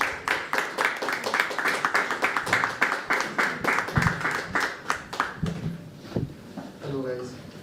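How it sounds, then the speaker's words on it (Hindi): Audience applause at a live stage show at The Habitat: a dense burst of many hands clapping together for about five seconds, then fading as a voice begins speaking. "तो तालियां बजती रहनी चाहिए"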